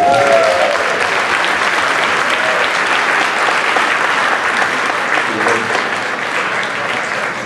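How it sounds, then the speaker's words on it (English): Sustained audience applause fills a room at a club presentation, a dense steady clatter of many hands clapping, loud and close throughout with no talk. "Give him a round of applause."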